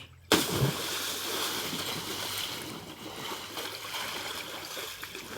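Water splashes as people bathe in a farm well: a sudden splash opens, followed by steady churning and sloshing of water close by throughout, with no talk.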